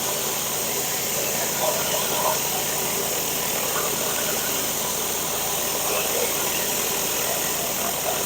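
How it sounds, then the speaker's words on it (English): A gas pressure washer runs with a steady, loud engine drone and broadband hiss as a surface cleaner edges a driveway, the noise unbroken throughout. "is just edging the driveway with the surface cleaner"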